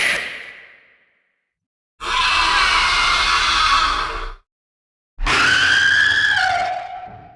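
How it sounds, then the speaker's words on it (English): AI-generated screaming voices made from a text prompt: three separate shrill, loud screams, the first fading quickly, the others sustained for two seconds or more with a wavering pitch, divided by silence. "Screaming voice."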